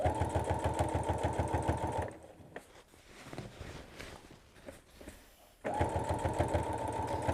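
A sewing machine stitching lines on a lap quilt runs in two steady, close bursts of rapid needle chatter, with a quieter pause of fabric shuffling between them.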